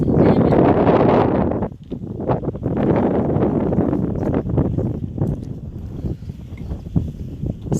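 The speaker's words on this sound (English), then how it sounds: "Sorry for the wind" Heavy wind buffets the microphone in an open outdoor space, a loud continuous low rumble with gusty surges and brief dips, no voices.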